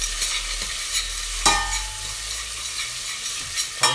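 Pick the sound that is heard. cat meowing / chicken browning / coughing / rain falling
chicken browning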